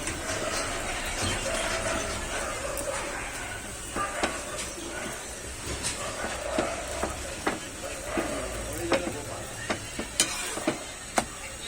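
Aloo paratha, a potato-stuffed flatbread, frying in a pan with a steady sizzle and frequent scraping and stirring clicks, moderately close, with a little background voice.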